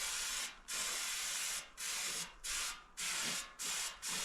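Brake cleaner hisses from a spray can in five bursts, close and steady, with short pauses between them while dust is cleaned off a Kenworth cabover sleeper panel.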